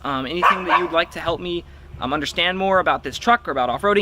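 A dog barks intermittently in the background of a home, faint and partly masked beneath continuous close male speech about a lifted 2018 Toyota Tacoma TRD.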